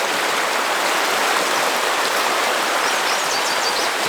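A river flows nearby at a campsite in Colorado, giving a loud, steady rush of broadband water noise with no break and no voices.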